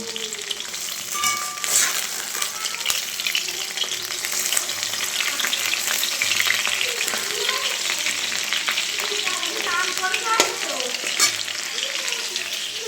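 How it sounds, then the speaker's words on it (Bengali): Tilapia fish fries in hot oil in a pan in a home kitchen, a dense, continuous loud sizzle and crackle with scattered pops, heard close and without any voices. "তেলাপিয়া মাছ ভাজা হয়ে গেছে নামাবো"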